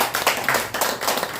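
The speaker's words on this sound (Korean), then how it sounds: "박수 좀 한번 보내주세요." Short, scattered clapping from a lecture audience honouring a guest, a few uneven bursts of hands over roughly a second and a half, moderately close and without voices.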